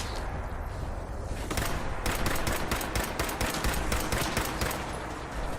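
Rapid bursts of gunfire from the video game Fallout 4, dense volleys of sharp cracks that begin after a quieter opening second and continue steadily, loud and close, with no talking over them.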